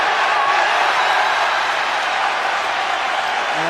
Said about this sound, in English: the crowd calling for Adam Wolf and getting Adam Wolf